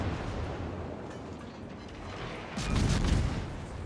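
Cruiser guns firing in World of Warships from a Worcester, a continuous low rumbling barrage that swells into a heavier burst of booming shots near the end.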